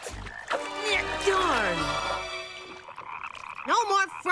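Cartoon frogs croak in a comic sequence, with a run of wavering, pitch-sliding calls and warbling tones over a low rumble, loud and close, ending in another bent, quavering croak.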